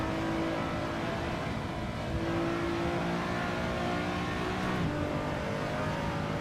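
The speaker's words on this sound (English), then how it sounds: "I'm using a custom engine sound" A race car with a custom engine sound in Assetto Corsa, driven around Road Atlanta, drones steadily and loudly throughout, its engine note holding near-constant pitch with a slight dip and recovery.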